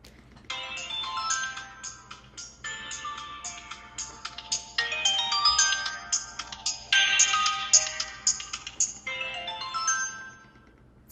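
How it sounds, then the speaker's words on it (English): A flip phone's polyphonic ringtone plays alone, a bright, bouncy electronic melody looping in repeated phrases for about eleven seconds at steady loudness. "I love my ringtone, by the way."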